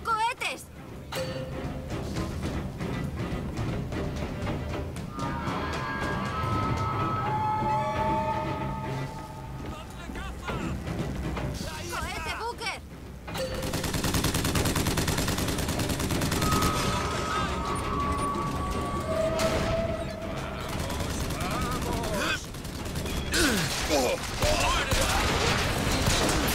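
Rocket launcher fire during combat in the video game Bioshock Infinite, dense bursts of explosive blasts and gunfire through a loud, busy battle mix, with voices speaking over parts of it.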